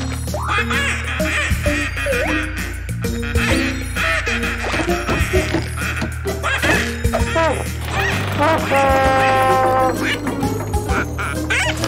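A cartoon duck from the children's show Pocoyo quacks a long string of loud, rapid, expressive quacks as if giving a speech, with crashes and other effects mixed in and laughter near the end.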